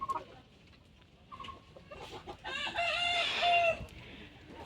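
A rooster crows once, loud and near, among large pure-breed desi hens that are caged apart while being treated for a cold, with faint clucks and light rustling before the crow.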